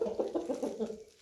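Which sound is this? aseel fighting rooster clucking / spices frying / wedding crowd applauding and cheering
aseel fighting rooster clucking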